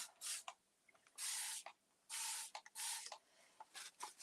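A spray can nozzle releases paint in short bursts onto a bench being made over, several close, loud hissing sprays of varying length separated by brief pauses.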